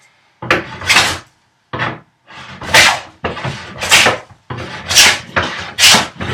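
A hand plane shaves a wooden workbench apron in a cordless-tool workbench build, making about seven close, rasping strokes in short bursts separated by brief pauses.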